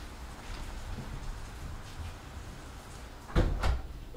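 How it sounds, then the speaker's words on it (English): A door is shut with a solid thump and a quick follow-up knock near the end, loud and close over a steady background hiss. "I gotta close the door for this shit."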